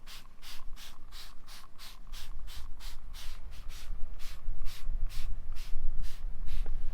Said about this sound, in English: Meanwhile, we spray the leg with water.